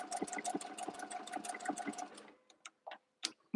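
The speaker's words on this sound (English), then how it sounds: "let's start sewing, friends." A sewing machine stitches a buttonhole in a rapid, steady whirring run for about two seconds, then slows to a few short, separate bursts before stopping.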